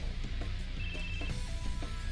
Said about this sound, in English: His phone rings because they just know that he is done with the bombshells.